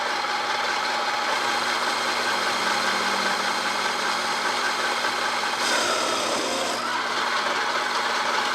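A mini-lathe turns at high speed with a low-cost carbide insert tool, producing a loud, steady whining hum with a brief shift in tone partway through.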